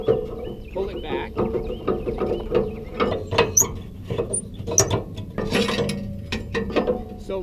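A tow dolly's ramp pin being pulled and its ratchet released, giving a run of sharp metallic clicks and clanks with some rattling, heard close up.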